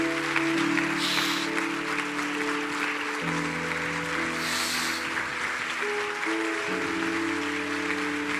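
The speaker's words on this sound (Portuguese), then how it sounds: "Dê um aplauso forte ao Senhor." A church congregation applauds in a steady, dense wash of claps over sustained keyboard chords that change underneath, with brighter surges of clapping now and then.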